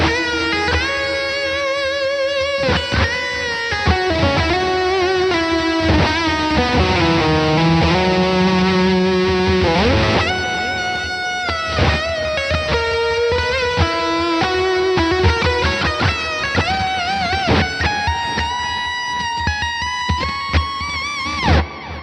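An electric guitar plays an ambient lead through a Blackstar Beam Mini amp with heavy effects: sustained, distorted notes bend and glide, then give way to washy, echoing phrases, heard alone and up close.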